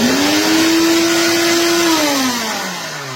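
An electric kitchen mixer motor whirs loud and close, holding a steady high-pitched drone before winding down as it slows near the end, with no talking.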